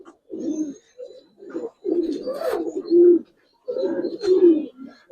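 Giribaz pigeons coo in repeated low, throaty bursts near at hand, with brief pauses between phrases and faint rustling of feathers around them; a voice is barely present.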